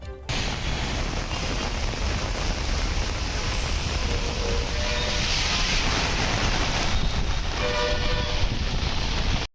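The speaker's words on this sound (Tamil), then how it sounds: "சிவகங்கை, கும்மிடிப்பூண்டி, செங்கல்பட்டு மற்றும் ஆம்பூர் உள்ளிட்ட பகுதிகளில் ஆலங்கட்டி மழை பெய்தது" A hailstorm with heavy rain and strong wind in Tamil Nadu makes a loud, dense, continuous roar of pelting and rushing that holds steady throughout and cuts off abruptly at the end.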